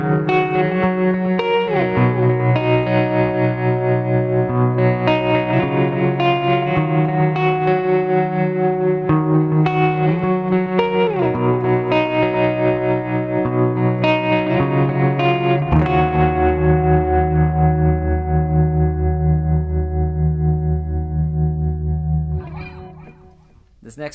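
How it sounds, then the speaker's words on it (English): Electric guitar played through a Zoom G5n multi-effects patch with slight tremolo, light compression and a little echo, ringing chords and picked notes that sustain evenly for about twenty seconds before fading out. "It's called Picky Pick. It's got some slight tremolo, a little bit of compression, a little bit of echo."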